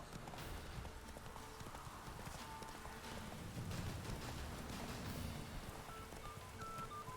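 Horse hooves clip-clop steadily in The Witcher 3, a continuous rhythmic trot at moderate distance under soft ambient game sound, with no talking.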